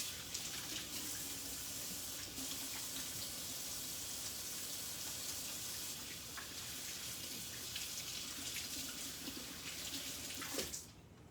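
A tap runs steadily while hands are washed beneath it in a kitchen, giving a soft, constant splashing hiss with small irregular splatters, heard faintly and alone until it stops abruptly at the end.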